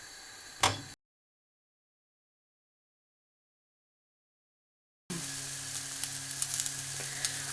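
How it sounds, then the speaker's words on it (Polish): A loud, steady sizzle of meatballs frying in a hot nonstick pan fills the second half, following a brief clatter and a stretch of silence. "Upiekam lub smażę na nie za dużym ogniu przez kilka minut"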